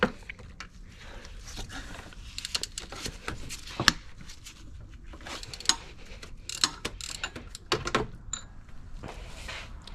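Rapid ratchet clicking in bursts as a 14mm deep socket works an alternator bolt on a Lexus IS300, close and crisp with short pauses between strokes and metallic clanks.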